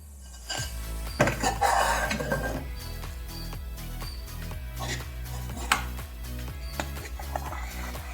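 Chana dal sabudana payasam stirred in a pot, a ladle knocking and scraping against the metal in irregular clinks and thuds, close and fairly loud, with a faint hum underneath and no talk.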